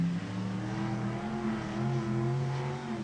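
Sprint cars at the Newcastle Motordrome roll toward a race start, their engines a sustained droning roar heard from a distance with some rising revs, no voices.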